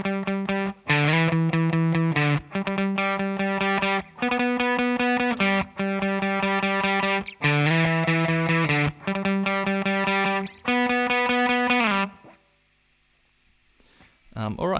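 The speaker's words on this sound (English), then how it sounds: "Only other part to learn now is a short lead line that happens over the top of the bridge and sounds like this." Distorted electric guitar playing the short lead line from a song, repeated bursts of sustained, overdriven notes with brief gaps between phrases, fading to near silence at the end.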